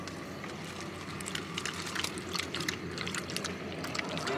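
Water being poured for a small girl to drink, a faint soft trickle and splash heard close against low background rumble.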